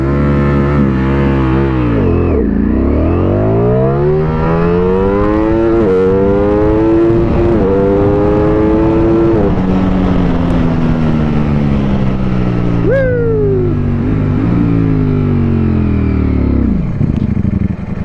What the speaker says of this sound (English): Pull clutch in, engage first, open full throttle.